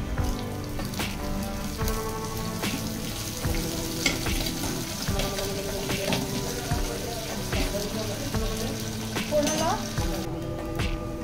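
Garlic and chillies tempering in hot oil for kadhi sizzle in a pan, a close, busy crackle with scattered pops and stirring clinks, alone without talk.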